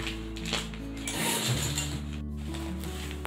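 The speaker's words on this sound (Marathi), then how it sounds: "आता हे साईडने टीप मारून घेऊया." A sewing machine runs a steady mechanical stitching whir along the side seam of a fabric fridge cover, close up and continuous, with a short change in motor pitch partway through and no voices.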